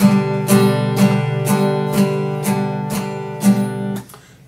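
An acoustic guitar is strummed in a steady down-up pattern, with bright chord strokes landing about every half second, close and clear, with no voice.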